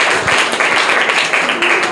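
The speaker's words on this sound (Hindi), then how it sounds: "जोरदार तालियां इनके लिए।" Children at a government school competition event in Mumbai give a winner a loud, dense round of clapping that stays energetic throughout, with some voices mixed in.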